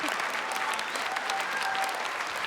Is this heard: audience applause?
yes